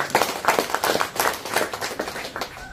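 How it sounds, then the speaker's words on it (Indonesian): An audience at a Parti Warisan political dialogue in Ranau applauds the division chief, a dense, steady patter of many hands clapping at moderate distance with no talk over it. "Beri tepukan kepada Ketua Bahagian kita."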